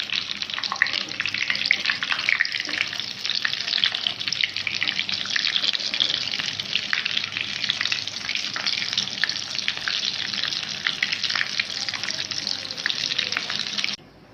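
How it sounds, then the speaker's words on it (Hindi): Chicken potato kebabs shallow-frying in a pan, a dense, even crackling sizzle held close and loud for about fourteen seconds before cutting off. "बस इनको भी मैं फ्राई कर लूँ। अब इनको भी टर्न कर लूँगी मैं।"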